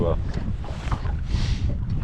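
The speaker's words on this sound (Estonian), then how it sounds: "Tuulisemaks aina kisub" Gusty wind buffeting outdoors on a fishing outing, a rough continuous rumble and whoosh close to the microphone, swelling and easing in waves as it grows windier.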